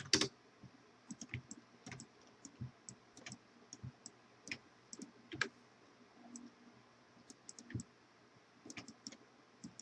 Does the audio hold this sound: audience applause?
no